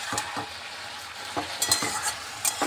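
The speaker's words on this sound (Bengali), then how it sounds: "টমেটো দিয়ে একটু নাড়াচাড়া দিয়ে একটু জলটা একটু শুকিয়ে নিচ্ছি" A potato, pointed gourd and tomato curry is stirred in a pan, with a low sizzle beneath several quick, close spatula scrapes spaced irregularly across a few seconds and no voices.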